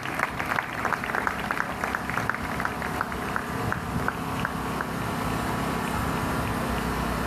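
An audience applauds at a Creole text competition final during an entrance, a steady wash of many clapping hands at moderate distance that runs the whole time.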